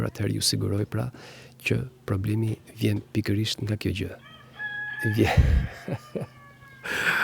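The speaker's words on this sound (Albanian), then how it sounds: "Këto janë pasojat e të folurit në natyrë, ku dëgjohen edhe zogjt, edhe pulat, ja, gjelin në sfond." A rooster and chickens outdoors in the background, with faint clucking and a crow rising near the end, mostly under someone talking close by.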